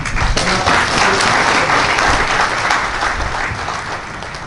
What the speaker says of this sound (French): J'aimerais avant de commencer mon propos qu'on applaudisse pour ASLM.